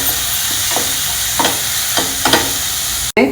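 Crushed ginger, curry leaves and moong sprouts fry in a pot with a constant loud sizzle, broken by a few sharp stirring scrapes and a brief cut near the end.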